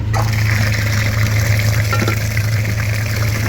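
Flushing liquid surges steadily through a clogged car heater radiator during a cleaning job, a loud, continuous watery gush over a low pump hum with no pauses.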